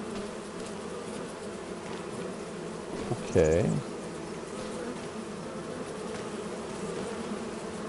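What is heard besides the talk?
bees buzzing in video game Farming Simulator 25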